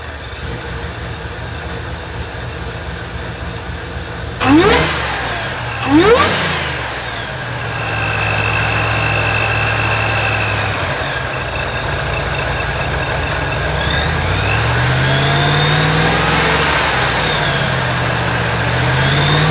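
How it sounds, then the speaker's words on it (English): A supercharged Chevrolet Suburban on a test drive idles, then revs hard twice with rising engine sweeps before pulling away in a steady, rising acceleration with supercharger whine. "let's go for a test drive, see if it's fast, and see if it'll spin the tires"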